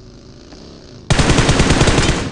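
Automatic gunfire in the mobile battle royale BGMI bursts in loud and sudden after a second of quiet low background, then keeps up as a dense, rapid stream of shots to the end.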